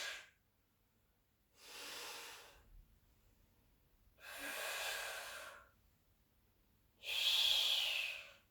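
Slow, deliberate breaths during a Pilates exercise, four long airy exhales and inhales alternating with quiet pauses, close and soft with no speech.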